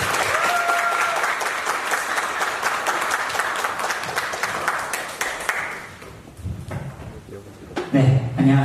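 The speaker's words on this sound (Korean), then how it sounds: "큰 박수로 맞이해 주시면 감사하겠습니다." Loud sustained applause from an audience welcoming a speaker at a student society information session, dense clapping for about six seconds before thinning out into scattered claps and room noise.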